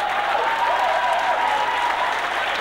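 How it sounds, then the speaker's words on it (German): Steady, dense applause from an auction audience at an anniversary gathering of the Vitznau Sennenbruderschaft, a continuous wash of many hands clapping at even loudness throughout, with no talk over it. "jetzt hört den Applaus"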